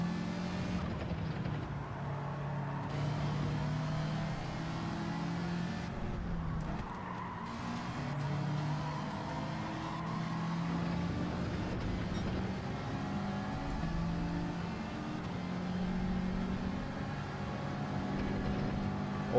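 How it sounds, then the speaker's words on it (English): A pack of racing cars in Gran Turismo jostle for position, their engines droning continuously with overlapping tones that rise and fall as cars accelerate and brake for a chicane. "big group of cars up in front here, all fighting for position"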